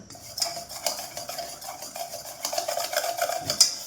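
Oreo biscuit cake batter beaten in a bowl, a close rhythmic run of wet stirring strokes with a utensil clinking against the bowl's sides.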